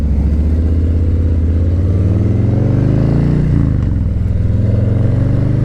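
Loud, continuous low engine drone of a 2020 Harley-Davidson Low Rider S cruiser motorcycle under way, with a steady throb and a slight shift in pitch midway.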